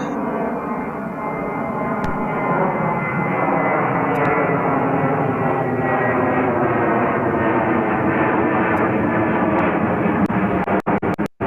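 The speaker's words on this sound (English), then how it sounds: "This aircraft is a Boeing 737-8V3 and is 9 years old." A nine-year-old Boeing 737-8V3 roars at JFK airport, a sustained, loud engine rumble with droning tonal hum that holds steady, then gives way to a few sharp clicks at the very end.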